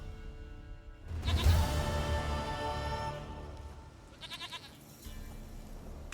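A goat in The Witcher 3 gives a loud, drawn-out bleat up close, followed by a shorter wavering bleat a few seconds later, over quiet game ambience.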